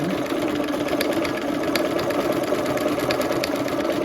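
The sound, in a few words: sewing machine sewing a buttonhole stitch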